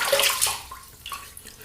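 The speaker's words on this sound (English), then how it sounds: "let me just put a bit more water on my face" Water is splashed onto a face with cupped hands while building shaving lather, giving a couple of close, wet slaps and trickles that fade into drips.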